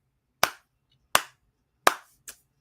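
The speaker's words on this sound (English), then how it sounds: "that's me clapping" Four sharp hand claps, close and distinct, the first three evenly spaced and the last one quicker and softer, in an otherwise quiet room.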